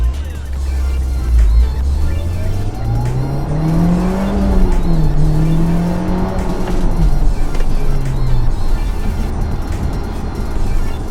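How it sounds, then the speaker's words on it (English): A 2015 Mitsubishi Evo X accelerating hard, the engine note climbing loudly through the revs, easing briefly at a shift and then rising again, heard from inside the car, close and sustained. "let's see how it does on a little acceleration"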